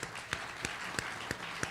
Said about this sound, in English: We're going to just clap for the Intrepid crew, y'all, please